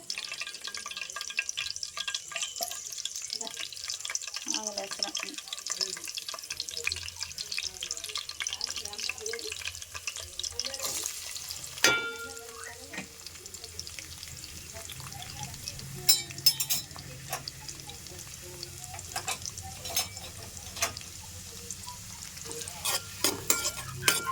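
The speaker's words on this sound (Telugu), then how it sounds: "తర్వాత నేను కట్ చేసి పెట్టుకున్న ఆనియన్స్ అయితే వేసేసుకున్నాను" Chopped onions fry in hot oil with a constant soft crackle, joined by frequent utensil clicks, scrapes and a brief watery splash in the middle; close and moderate in level, with occasional faint background voices.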